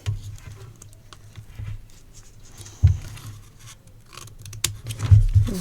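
Scissors cut through paper card with soft crisp snips and rustling, irregular and close, with occasional louder scrapes and handling noises.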